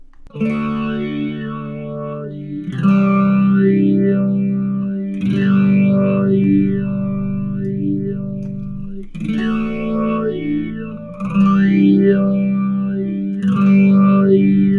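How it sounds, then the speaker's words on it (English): Sustained guitar chords through an Axe-Fx III formant effect change a few times while a sweeping, vowel-like filter makes the tone swell and shift like a voice saying different vowels. "I'm going to change the start, mid, and end vowels while I'm playing these chords"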